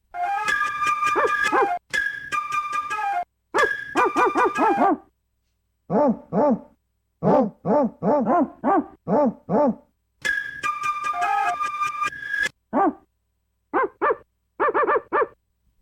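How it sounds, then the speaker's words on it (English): A dog barking in repeated bursts, loud and close, with short gaps between volleys and some higher yips mixed in, no talking. "Dog barks."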